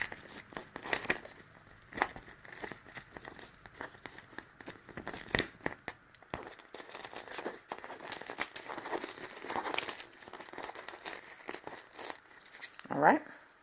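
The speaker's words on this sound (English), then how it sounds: "tear away the excess" Paper tearing and crinkling as the excess is pulled away from a printed heart cut-out, with scattered ripping bursts and rustles over about fourteen seconds, close up, with a person talking throughout.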